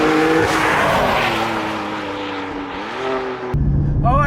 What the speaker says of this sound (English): You can hear that exhaust, sounds great as well.